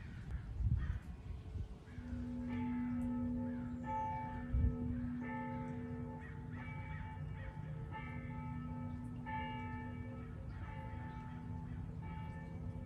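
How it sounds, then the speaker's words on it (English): Bells ring out in a steady, repeated pattern with long sustained tones, moderately loud and continuous over a low background rumble, with a couple of thumps early on. "My bells, you guys."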